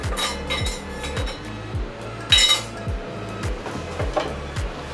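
A Soto Sierra Cup camping cup clinks against other metal camping gear in a series of bright, ringing taps, with several sharp close-up hits and one louder clang, and no talking.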